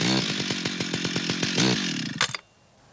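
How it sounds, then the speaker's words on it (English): A chainsaw runs at a steady idle, its engine thumping in a rapid even pulse, loud and close, before a brief burst of rattling and an abrupt cutoff into near silence. "You notice the chain wasn't turning while the chainsaw was idling."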